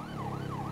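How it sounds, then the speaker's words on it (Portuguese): Police siren in GTA V with the LSPDFR mod, from a PMERJ XT660 patrol motorcycle, a wailing tone sweeping up and down twice over a low engine hum, fairly quiet and without talk. "Vamos ligar as sirenes aí, velho."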